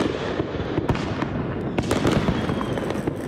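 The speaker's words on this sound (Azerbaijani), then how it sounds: "Dənizkənarı Milli Parkda 31 dekabr Dünya Azerbaycanlılarının Həmrəyliyi günü ve Yeni İl bayramı münasibetiyle mühteşem bayram ateşfəşanlığı oldu." Fireworks burst over the seaside national park in Baku at a New Year's Eve celebration, a dense, continuous barrage of loud crackling bangs and sharp pops with no talk over it.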